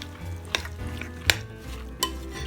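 Quartered artichokes are mixed in a bowl with a few sharp clinks and scrapes spaced about a second apart over a low background hum. No one speaks.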